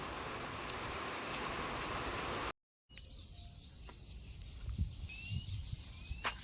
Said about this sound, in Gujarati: વરસાદ પણ ચાલુ છે